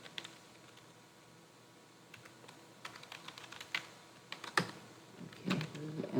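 Keys on a keyboard are typed in irregular, sparse clicks and small bursts, close and soft, growing busier toward the end, with no talking.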